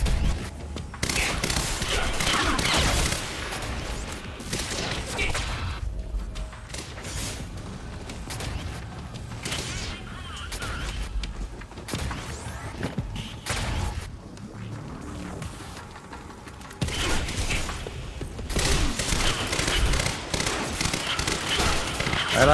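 Tactical SMG fire in the Quantum Break video game: repeated bursts of rapid gunshots with mechanical clatter and thuds, loud stretches separated by quieter gaps, faint voice-like sounds in places.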